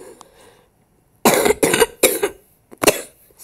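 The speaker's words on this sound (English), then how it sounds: "Still having a cough, guys." Person coughing four times in a quick, harsh burst, loud and close, after a brief quiet pause.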